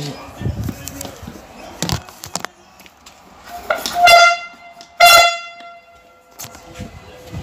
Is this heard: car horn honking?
yes